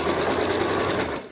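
A Janome sewing machine stitches through quilt fabric in a rapid, steady mechanical whir with fine repeating needle ticks, close and fairly loud.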